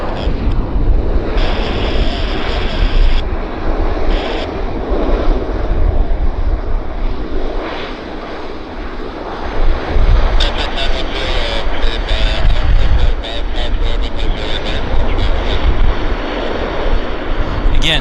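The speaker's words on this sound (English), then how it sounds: "He's a small propeller plane." A small propeller plane rolls out on the runway at Vancouver Airport, its engine drone steady and fairly loud under constant wind and outdoor rumble, with talk heard over it.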